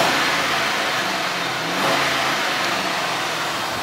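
A V8 Hemi engine in a low-mileage car, an RT with automatic transmission, revs steadily and loud at close range, a broad continuous roar with a slight swell near the middle and no talk over it.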